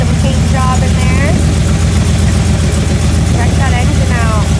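A 1946 Chevrolet Coupe idles with a loud, steady, deep engine rumble while someone talks over it.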